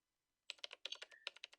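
Keyboard typing sound effect from the Ace Attorney Spirit of Justice video game: a quick burst of crisp, close clacking keystrokes in uneven rhythm, starting after a brief silence, with no talk over it.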